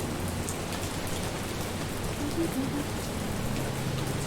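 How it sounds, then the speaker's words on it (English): Rain falls steadily in a soft, even hiss of drops on a surface, continuous and moderately quiet with nothing else standing out. "I love the rain sound. It's so soothing."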